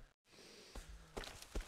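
A character in the horror video game Cry of Fear breathes heavily, a few quiet, rough, sigh-like breaths spaced apart with faint footstep-like thuds, low in level and heard alone.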